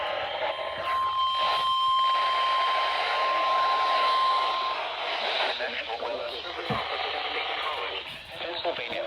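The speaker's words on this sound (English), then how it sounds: "The tones you just heard were a test of the specific area message encoding and tone alert systems." A steady 1050 Hz-style alert tone from a NOAA weather radio during an EAS SAME test, holding for about four seconds over hissy, radio-like background noise and a faint voice-like murmur.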